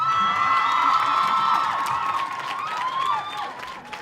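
Girls at a college graduation ceremony let out a loud high-pitched cheer with whoops and clapping, swelling at first and then tapering off over a few seconds.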